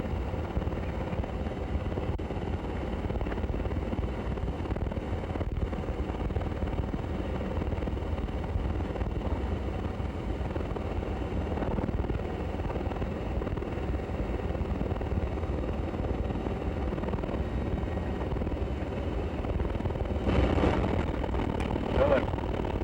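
An aircraft engine running up on the ground in a crosswind, a continuous loud droning roar that builds slightly near the end, with wind buffeting and voices faintly under it.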